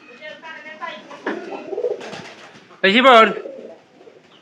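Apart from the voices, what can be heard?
pigeons cooing in their loft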